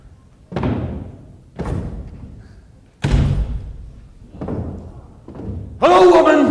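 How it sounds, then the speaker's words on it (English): Booming giant footsteps in a Jack and the Beanstalk stage play land as five heavy, evenly spaced thuds, each loud and resonant with a short decay, followed by a loud shouting voice. "Oh, here he comes again, booming as usual."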